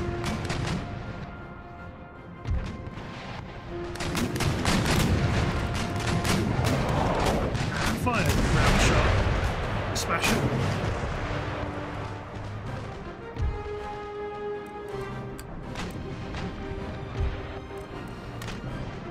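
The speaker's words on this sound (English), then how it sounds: "You're going to keep firing round shot." Cannon and musket fire from a battle in the video game Empire: Total War, loud and continuous: booming artillery and crackling volleys overlapping with crashes across the whole stretch, with music tones mixed in.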